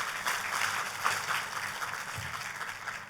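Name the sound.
applause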